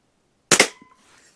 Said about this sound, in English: And then we'll shoot our can.